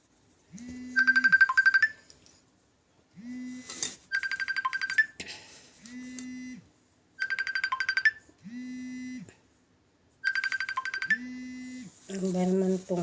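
A cellphone ringtone plays a repeating electronic melody in several bursts separated by short pauses, clear and fairly close, with a voice briefly heard at the end.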